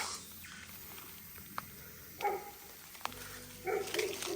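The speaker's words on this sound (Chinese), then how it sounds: "那边好像有条狗在叫" A dog barks a few times in the distance near abandoned brick village houses overgrown with tall weeds. The short, faint barks stand out over a quiet outdoor background.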